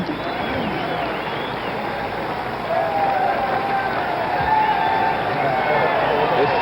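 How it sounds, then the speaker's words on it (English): A 1968 presidential political rally crowd, stirred up by the playing of Dixie, cheers and claps loudly in a sustained roar with scattered shouts, the noise swelling a little louder partway through. "This crowd here has just been whipped into enthusiasm by the playing of Dixie"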